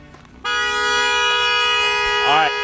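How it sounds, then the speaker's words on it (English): A car horn blares in one long, loud, sustained honk that starts abruptly and keeps going, with a voice calling out over it near the end. "Alright, so you're just honking."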